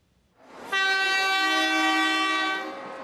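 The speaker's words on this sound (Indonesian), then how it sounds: "Suara klakson bergema saat kereta memasuki stasiun" A train sounds a long, loud multi-tone horn while pulling into Cici station in Nantou County, Taiwan, rising from a faint rumble into a steady blast of about two seconds that then fades.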